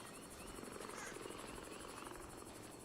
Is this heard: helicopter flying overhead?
yes